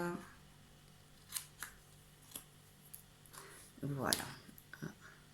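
Paper snipped with scissors on a slant, a handful of short crisp cuts spaced through the quiet, with soft handling noise and a brief louder rustle near the end.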